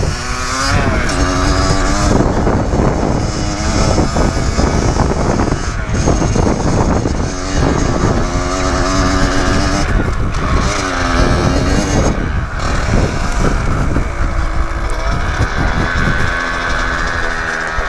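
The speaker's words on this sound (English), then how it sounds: "I love this bike" A Kawasaki KX85 pit bike is ridden outdoors, its engine revving and changing pitch continuously and loudly close to the microphone, mixed with heavy wind buffeting.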